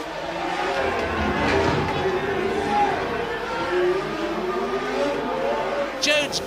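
Formula 1 cars race through the streets of Monaco at the 1981 Grand Prix, their engines droning continuously beneath loud crowd noise and a commentator's voice, with a sharper engine whine rising near the end.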